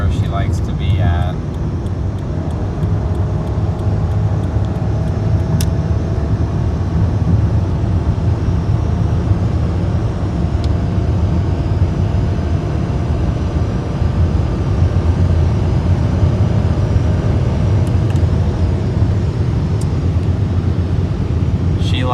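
A car engine climbs under steady half throttle, giving a continuous low droning rumble that holds even in loudness with little change in pitch.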